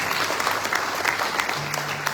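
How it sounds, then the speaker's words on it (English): An indoor audience at an evening Hindu religious gathering claps steadily in sustained applause, dense and close. "please give them a round of applause"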